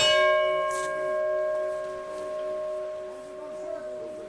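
A single distant bell rings in Alaska in summer with a sustained tonal strike that fades slowly, faint and far off against light outdoor ambience.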